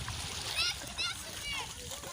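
Floodwater splashes in a village as boys play in it, a few brief nearby splashes mixed with children's voices and chatter over a steady watery background.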